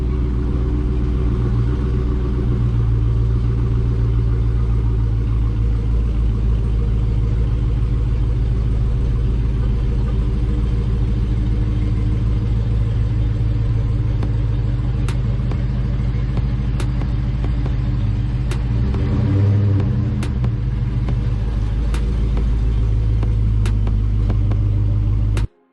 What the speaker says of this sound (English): So let's go ahead and get the car moved out, move it over, so that way we have some room to do some work.